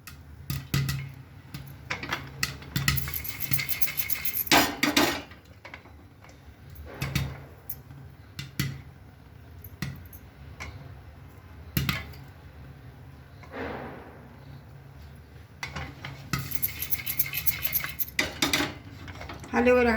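A pressure cooker on a high gas flame is shaken up and down while raw corn kernels pop inside for homemade popcorn, giving close, loud, irregular metallic clattering and rattling bursts with quieter gaps between them.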